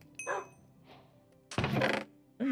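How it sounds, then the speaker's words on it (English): A dog gives a few short, separated barks, close and fairly loud, with quiet gaps between them and a brief thump. "Are you barking in agreement or barking in disagreement?"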